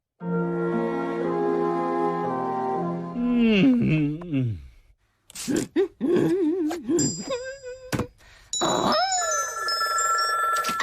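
A cartoon telephone rings in The Simpsons, a loud repeating electronic ring lasting several seconds, then stopping as voices and other squeaky tones follow.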